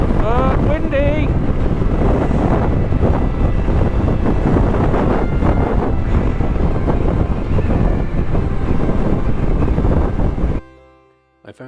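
Strong wind buffets the microphone during a ride on a Honda CRF300 Rally motorcycle along a barren, dusty roadside, roaring loud and continuous for about ten seconds before cutting off abruptly.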